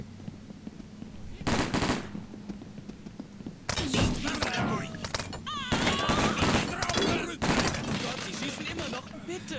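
Gunfire in the SWAT 4 tactical shooter, loud bursts of rapid automatic shots in several clusters, one short burst early then long stuttering volleys, with someone talking between them.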